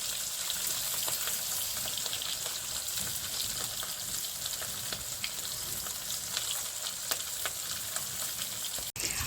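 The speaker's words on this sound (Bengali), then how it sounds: "মাছগুলো আমি ভেজে নেবো" Large pieces of katla fish fry in hot mustard oil in a wok with a dense, continuous sizzle and crackle, close and even throughout, with no one talking.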